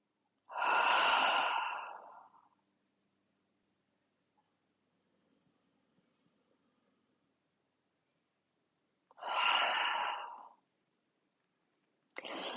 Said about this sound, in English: inhale through your nose. And exhale, sigh your breath away.